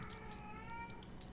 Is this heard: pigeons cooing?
no